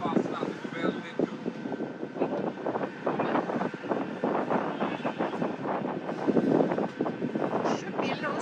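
Steady wind rushes over the microphone aboard a sailboat on the French Riviera as the mainsail goes up, a continuous broadband roar with gusty swells that fills the whole stretch.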